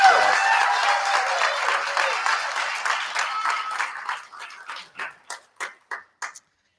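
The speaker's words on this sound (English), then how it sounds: "Please give her a round of applause." An audience at a high school academic and sports awards ceremony applauds an administrative assistant, dense clapping that thins out toward the end, leaving a few separate, isolated claps before silence.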